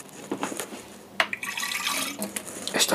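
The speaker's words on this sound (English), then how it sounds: "is to add a wee bit of water" Water splashes into a glass bottle in a kitchen in a few uneven gurgling bursts, close and moderately loud, with short pauses between pours.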